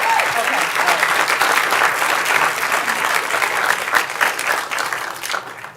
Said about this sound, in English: let's give another round of applause to this great panel